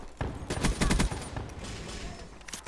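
Rapid automatic fire from the ICR rifle in Call of Duty: Black Ops III, a quick burst of close, punchy shots followed by a few scattered rounds.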